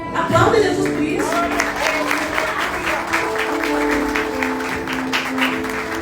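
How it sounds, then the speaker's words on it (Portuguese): A church congregation at a Christmas service breaks into loud, sustained applause that rings on for several seconds, with a voice speaking over the clapping at the start. "Aplauda Jesus por isso."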